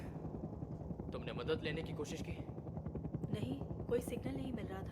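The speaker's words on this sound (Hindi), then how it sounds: "हेलीकॉप्टर की आवाज है।" A helicopter approaching in a movie scene makes a steady, rumbling rotor drone throughout, beneath people speaking.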